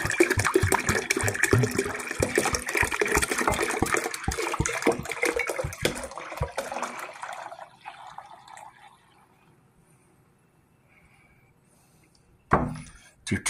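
Meadowsweet tea poured into a vessel of proto-Indo-European style mead, a steady close liquid stream splashing for several seconds before tapering off into quiet, followed by a brief knock at the end.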